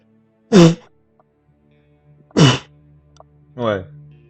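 Three loud, close sneezes in quick succession, sharp bursts spaced a second or two apart over a quiet hum.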